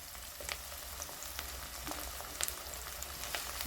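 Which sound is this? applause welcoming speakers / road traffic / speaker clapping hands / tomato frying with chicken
tomato frying with chicken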